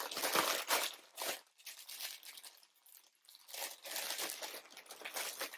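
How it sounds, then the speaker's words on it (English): Plastic packaging around skeins of yarn crinkles and crunches as it is handled, in several bursts of close, crackly rustling with short pauses between them and no voices. "It's going to be some crinkling."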